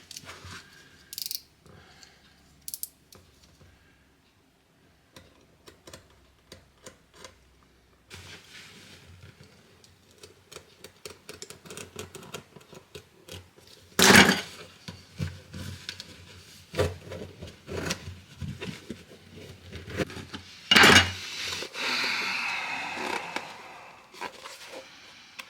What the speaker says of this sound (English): So I'm going to cut them open and see how it looks inside.